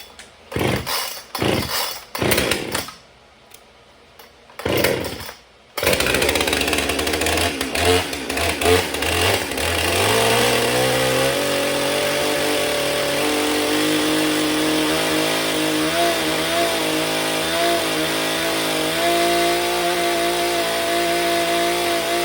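Husqvarna 465 Rancher chainsaw after a service: a few short pulls and sputters, then the engine catches and runs loud and close at a steady buzzing idle-to-high drone.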